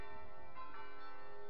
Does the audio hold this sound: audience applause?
no